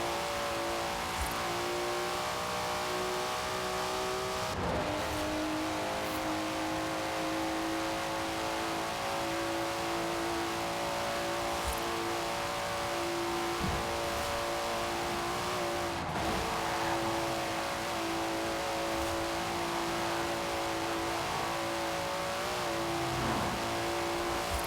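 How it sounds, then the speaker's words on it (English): A Datsun's engine revs hard and steadily in the racing game Forza Horizon 4, loud and close throughout, with rising and falling pitch as it accelerates and shifts, plus a couple of sharp gear-change dips. "Listen to that! Never heard a Datsun sound like that, have you?"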